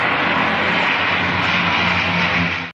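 Firefighting aircraft fly over burning forests, their engines giving a loud, steady roar that holds for several seconds before cutting off abruptly.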